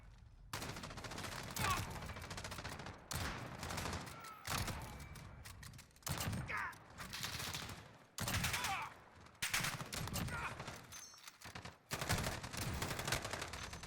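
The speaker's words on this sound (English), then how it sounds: "my marksman rifle shot I was happy with" Marksman rifle shots in Call of Duty Modern Warfare ring out in a series of loud, sharp bursts, roughly one every second or two across the stretch, each followed by a decaying tail, with mechanical handling noises in between.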